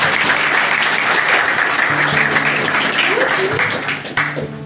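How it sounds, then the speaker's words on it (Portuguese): A ceremony audience claps steadily at an induction of new members of an arts academy in Pires do Rio, Goiás. The dense, continuous applause runs the whole time, with a voice and faint tonal sounds underneath, thinning slightly near the end. "Mais uma vez, uma salva de palmas."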